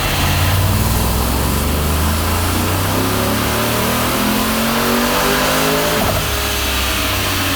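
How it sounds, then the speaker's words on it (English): A supercharged, ProCharger-equipped work van running on ethanol blend revs hard on a dyno, its loud engine roar climbing and then dropping with a whooshing release like a turbo blow-off valve, sustained and close without talk. "Sounds just like a blow-off valve on a turbo car."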